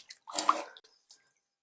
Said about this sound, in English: we are just going to rinse it off really quick